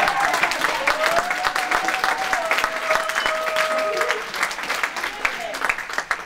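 A church congregation applauds steadily in a dense, continuous wash of clapping that fades slightly toward the end, while a voice speaks over it.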